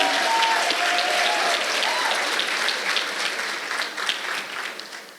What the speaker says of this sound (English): Let's give a warm round of applause for Faith Coppage.